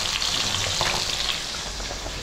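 Food frying in a pan with oil and broth, a steady close crackling sizzle holding for about two seconds with faint stirring scrapes and no talk.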